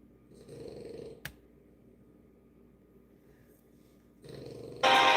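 A dog snores softly in slow, raspy breaths, with quiet pauses between them and a louder burst of noise at the end.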